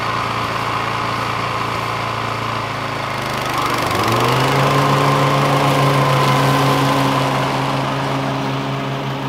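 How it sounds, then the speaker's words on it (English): A Toro Timemaster 30 lawn mower running steadily and close, its engine droning at a constant pitch before the tone shifts and settles at a higher, louder level partway through. "you don't have to shut this mower off. You can literally let go of the handle. It'll stay running."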